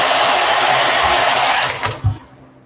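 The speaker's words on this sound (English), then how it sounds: "all this hair dryer is doing in between is just drying it so that I don't have to wait" A hair dryer drying paint on a fishing lure blows with a steady, loud broadband whoosh, then sputters and cuts off near the end with a brief thump.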